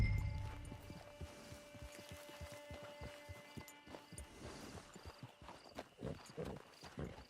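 A horse's hooves clip-clop in a steady walking rhythm, close and fairly quiet, over a faint background hum.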